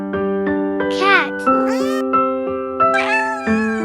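A domestic cat meows several times in a row, close and clear, with rising and falling calls; some of them stretch into drawn-out, whining cries.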